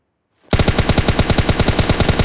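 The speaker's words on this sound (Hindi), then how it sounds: "लेकिन तभी मुझ पर फायरिंग होती है" Rapid automatic gunfire from a weapon in the mobile shooter PUBG Mobile Lite bursts in after a brief silence, a loud, steady stream of closely spaced shots repeating evenly to the end.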